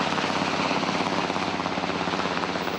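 A helicopter flies nearby, its rotor producing a steady, loud, rapid thumping throughout, with no voices present, during regional news coverage of aircraft heading to municipalities in Cauca, Colombia.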